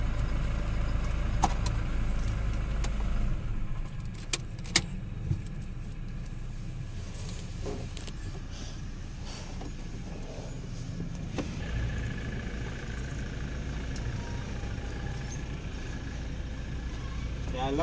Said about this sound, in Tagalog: Check natin ang engine ngayon.